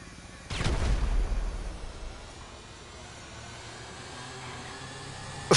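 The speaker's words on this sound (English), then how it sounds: "grenades going out" A heavy video-game grenade explosion booms near the start, its rumbling blast decaying over a couple of seconds into a low, noisy hiss, with another sharp blast cutting in at the very end.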